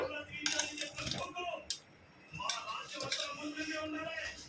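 Cut pieces of jaggery dropped one at a time into a cooking pot while making peanut payasam, giving several sharp clinks and thuds among soft kitchen clatter, with brief quiet gaps between drops.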